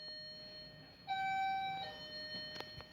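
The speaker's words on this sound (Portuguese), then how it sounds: "Agora, pessoal, é a campainha." A doorbell rings once with a clear electronic tone, ringing briefly before fading, over quiet indoor background noise with a couple of faint clicks afterward.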